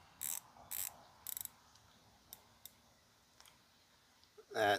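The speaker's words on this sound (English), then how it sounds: "120 click bezel." A 120-click dive watch bezel is turned, giving a few short bursts of rapid ratcheting clicks, then sparse single ticks and a louder final rasp, all close and quiet with no talking.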